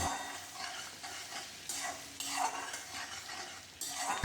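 Chopped garlic frying in oil and butter, stirred in a pan with soft scraping over a gentle sizzle, close but fairly quiet and without speech.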